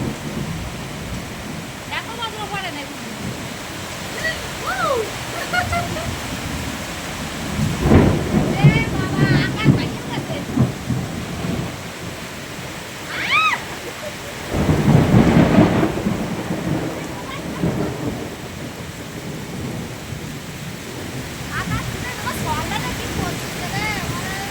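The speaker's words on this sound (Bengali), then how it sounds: "মারাত্মক বজ্র পড়ছে, মারাত্মক বজ্র।" A thunderstorm over Mobarakpur Colony in Tehatta, Nadia, with steady heavy rain and several rolling claps of thunder, two of them louder and nearer, while a person talks throughout.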